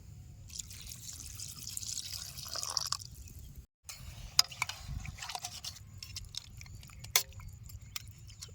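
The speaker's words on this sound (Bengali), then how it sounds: "এবারে অল্প পরিমাণে জল দিয়ে দেবো" Water trickles and drips into a pan of small chuno fish, raw green tomato and spices being cooked village-style, a soft wet pouring sound with scattered drips and clicks, no talking.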